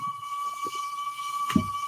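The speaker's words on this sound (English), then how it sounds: "number 7 does sound like Flying Scotsman's real whistle" A video-game steam locomotive whistle modeled on the Flying Scotsman gives a steady, high, sustained tone, moderately loud, with faint low thumps beneath and one brief knock near the end.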